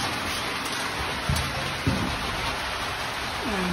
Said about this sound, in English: got some rain coming down here at this old abandoned mine